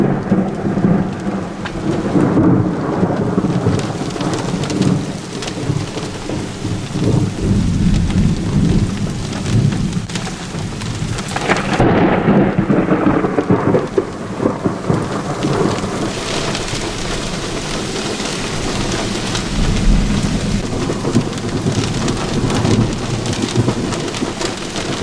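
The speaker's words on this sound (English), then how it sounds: "lightning right above the car and thunder so loud the windows" Heavy rain pours steadily while deep thunder rumbles and rolls, loud and continuous throughout, during a thunderstorm heard from inside a car in Botswana.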